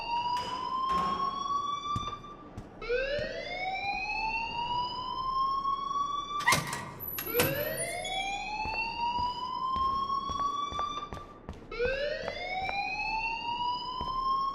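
An electronic alarm in the game Life is Strange wails steadily, its rising sweeps repeating every few seconds at moderate level, broken by a couple of short sharp clatters.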